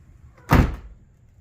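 A hatch slams shut once during a lighting install, a single sharp close thud with a brief rattle, near and loud against a quiet background.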